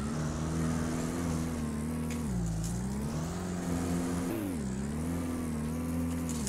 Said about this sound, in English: I'm feathering the throttle